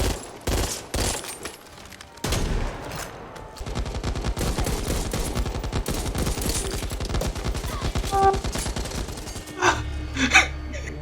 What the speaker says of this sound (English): You were shooting at me, bro.